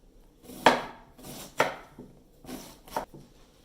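A knife chops small onions on a cutting board in four sharp, separate strikes spaced about a second apart, close and clear against a quiet kitchen background.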